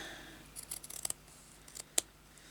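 Scissors snipping a piece of embroidery lace: a quick run of crisp, close blade clicks followed by a single sharper snip, quiet and alone without talk.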